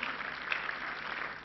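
Church congregation clapping during an altar call at a praise service, a soft, steady patter of many hands heard from some distance, with no speech over it.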